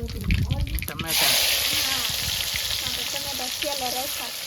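Tomatoes dropped into hot oil tempering with mustard seeds for jowar flour dhokla burst into a loud, steady sizzle and hiss, with stirring and a person talking throughout.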